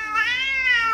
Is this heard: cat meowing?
yes